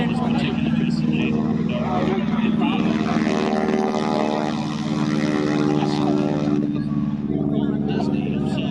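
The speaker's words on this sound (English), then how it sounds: "Wow, that propeller was making a lot of noise." Loud, steady propeller drone of an SNJ aircraft engine at the Miramar airshow, a continuous rumbling buzz close by with crowd voices mixed underneath.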